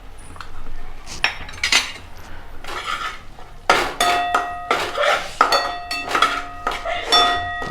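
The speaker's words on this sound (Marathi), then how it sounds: "आपला मसाला व्यवस्थित आपण आता परतून घेऊया." Spices such as turmeric, red chilli and coriander powder being sautéed in a pan for a potato curry, with a metal spoon repeatedly clinking and scraping against the pan in bursts, close and fairly loud.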